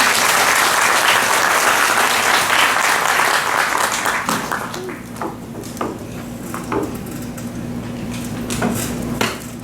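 Audience at an outdoor peace rally marking the armistice anniversary claps heartily, the applause thinning and fading after about four seconds, leaving scattered claps, clinks and a low steady hum.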